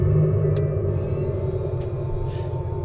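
An Abarth 500e electric car plays its artificial engine sound, a loud, steady, low synthetic rumble heard close up inside a studio with no talking.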